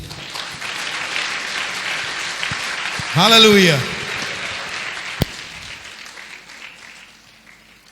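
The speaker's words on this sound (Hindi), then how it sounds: "हम परमेश्वर की महिमा की तालियों को देंगे।" A congregation applauds during a Hindi-language Christian church service, with sustained clapping that swells briefly around a loud exclamation from a voice before slowly fading.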